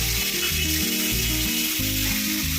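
Bay leaves, cumin seeds and dried chillies spluttering in hot oil in a kadai: a dense, continuous close sizzle with crackling spits, steady and loud, no talk.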